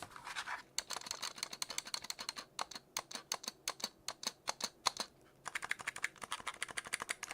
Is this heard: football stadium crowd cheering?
no